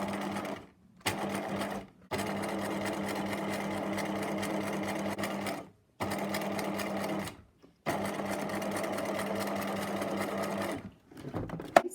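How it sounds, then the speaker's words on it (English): A sewing machine stitches bias binding down as a casing close to the fabric edge, running in several steady bursts of rapid mechanical whirring separated by short pauses. "I'm just going to stitch it very close to the edge."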